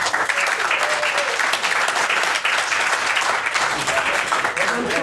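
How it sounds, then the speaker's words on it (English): An audience gives a sustained round of applause for the panel speakers at a web developer Q&A event, dense and even clapping that holds steady throughout. "Please give a round of applause if you enjoy yourself tonight."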